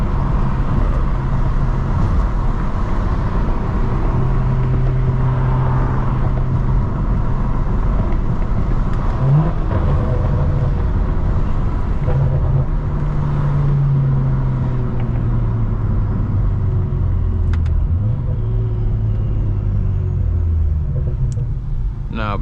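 A straight-piped BMW E92 with an N55 engine driving at night, heard as a loud, continuous low exhaust drone and rumble that rises and falls through gear changes over steady road noise.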